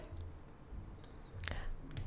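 A computer mouse is clicked on a wireframe prototype during a first-click usability test: two sharp clicks, one at mid-clip and another just before the end, over a low steady hum.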